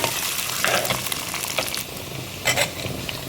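Sliced ginger sizzles and sputters in a hot pan of oil for a Kerala fish curry, with crackling bursts and stirring, close and alone.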